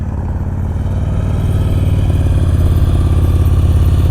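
A motorcycle engine runs on light throttle during slow-speed riding practice, a smooth, continuous low rumble that stays close and steady and swells slightly over a few seconds.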